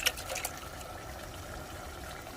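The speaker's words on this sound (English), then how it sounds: "Water, like a half cup of water into the blender cup." About half a cup of water goes into a blender cup and gets swirled around, a soft close trickling and sloshing with a few bright splashes at the start.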